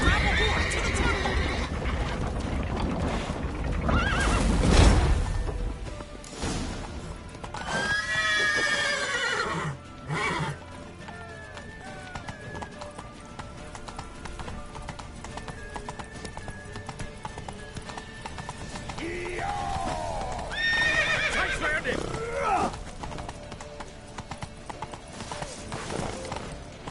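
Horses in The Witcher video game gallop with steady clip-clopping hooves and let out several loud neighs and whinnies, alongside game music, shouting voices and chaotic action throughout.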